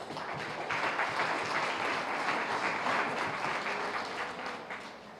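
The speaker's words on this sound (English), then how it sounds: "you deserve a round of applause" A crowd at a career initiative event for school learners breaks into warm applause, a dense wash of clapping that rises within the first second, stays steady and thins slightly toward the end.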